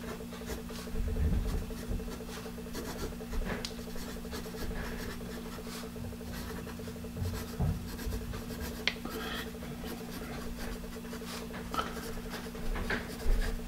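A Caran d'Ache 351-2 pencil scratches across paper close up in a long run of fine, irregular strokes, quiet over a faint steady background hum.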